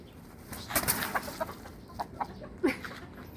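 White Kelso rooster flapping and clucking while being handled, bursts of wing beats and short clucks at close range over a quiet background.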